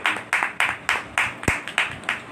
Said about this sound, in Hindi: जोरदार तालियां यीशु नाम के लिए